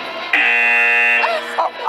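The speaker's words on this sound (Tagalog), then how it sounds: "Pagdating sa huling obstacle ay sunod-sunod ang mga buzzer na narinig ng housemates." A loud electronic game show buzzer blares as housemates hit the final obstacle, one long steady tone followed by shorter bursts, with excited voices and commotion around it.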